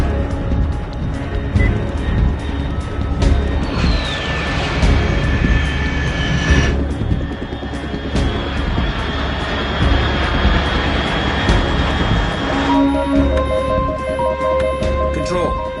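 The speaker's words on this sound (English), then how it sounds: "Control, unidentified aircraft detected." An aircraft flies over in the video game Metal Gear Solid 3, a sustained jet-like roar and whine over a busy game soundscape. The tone shifts and sweeps partway through, and a voice speaks over it.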